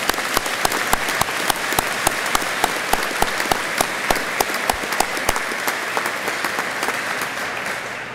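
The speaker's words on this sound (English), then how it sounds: "So a round of applause." Audience applause at the Indiana State Police 82nd class graduation ceremony, a steady dense clapping that holds for about eight seconds with sharper individual claps popping out, fairly close and loud with no talk over it.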